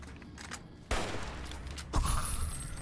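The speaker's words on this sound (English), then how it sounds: "we should probably use the hunting rifle here" A hunting rifle fires two loud, sharp shots about a second apart in Fallout: New Vegas, each crack followed by a short echoing tail over a quiet background.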